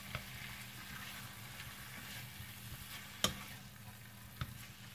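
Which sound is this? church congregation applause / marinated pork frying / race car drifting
marinated pork frying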